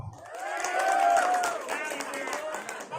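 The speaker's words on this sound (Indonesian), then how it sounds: "Tepuk tangan buat ibu-ibu." An audience at a wedding-celebration religious talk claps and cheers for the mothers, a crowd's applause swelling under lively overlapping voices before tapering off.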